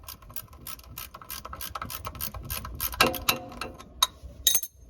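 Metal ratchet wrench loosening the oil drain plug on a 2004 Ford Expedition, a run of quick clicking mechanical ratchet strokes close by, growing sharper and louder toward the end, with no talking.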